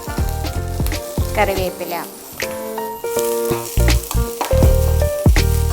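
Shallots, garlic, ginger and green chili fry noisily in a pan, a loud crackling sizzle with stirring rattles, while someone talks over it.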